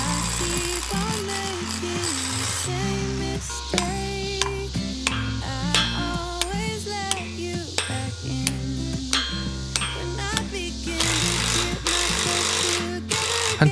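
A hammer drill pounds rapidly into a concrete floor to set 20mm anchors fixing a steel base plate of an H-beam column, a loud continuous rattling hammering with brief pauses between bursts.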